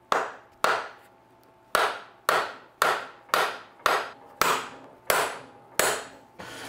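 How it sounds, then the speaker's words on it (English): Eleven sharp hammer blows drive a carrier bearing cap onto a Toyota Tacoma drive shaft at an irregular, roughly half-second pace, each ringing briefly before the next; close and clear with no talking. "we're gonna take this hammer since it's not gonna mar this thing up"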